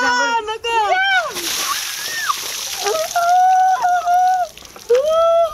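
A voice, then a burst of water splashing and sloshing as a filled bucket is poured out, followed by more talking and a shout over the wet noise.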